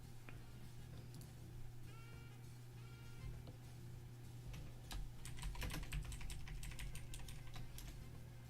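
Typing on a computer keyboard, quiet and close, with scattered keystrokes that build into a fast, dense run of clicks over a steady low hum.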